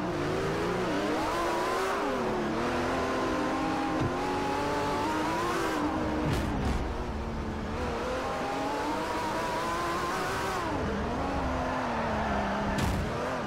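A race car engine in the Forza Motorsport 4 video game revs hard and continuously, pitch climbing and dropping through gear changes, with brief tire squeals, loud and close throughout.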